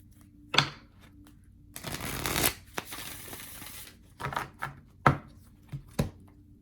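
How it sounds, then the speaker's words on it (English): Tarot cards are shuffled in quick riffling bursts, a longer fluttering riffle in the middle and several short sharp taps and snaps around it, close and clear. "let's get one more shuffle"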